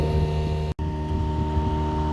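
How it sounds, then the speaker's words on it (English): A Toro 60-volt battery lawn mower idles with a steady, even motor hum and whine, close and continuous apart from one brief dropout, with no talk. "You wouldn't want to leave a idling lawnmower unattended, that's for sure."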